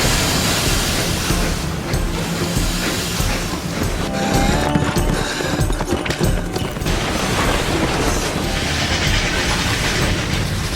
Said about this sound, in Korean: Seems an engine's gonna race the train back to town.